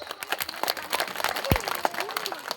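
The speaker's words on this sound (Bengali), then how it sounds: "হাততালি হয়ে যাক।" Applause for a correct answer at a school quiz competition during an annual gathering: a short burst of scattered clapping from a small audience, mixed with a voice speaking over it.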